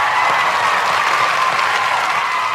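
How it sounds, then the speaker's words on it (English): A small group applauds a newborn baby girl named Mia Sky, a dense, steady patter of clapping that sounds close and fairly loud. "Let's get some claps going for Mia Sky."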